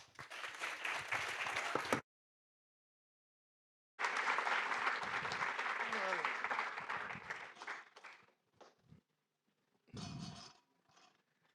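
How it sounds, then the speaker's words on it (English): An audience at a Speck&Tech tech meetup gives a speaker a warm round of clapping in loud bursts, first briefly, then after a short gap at length, before thinning into scattered claps and a final short burst. "Let's give him a warm applause."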